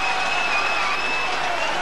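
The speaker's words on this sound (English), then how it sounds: "And the Featherstone fans are cheering." Rugby league crowd of Featherstone fans cheering and applauding at a 1988-89 match against St Helens, a dense, sustained roar of clapping and shouting throughout.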